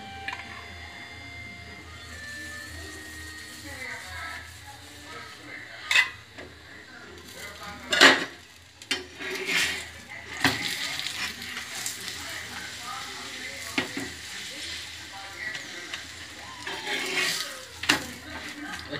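Maggi paratha cooking in ghee on a pan, giving a faint, steady sizzle with scattered clinks and scrapes of utensils against the pan, some sharper taps standing out partway through.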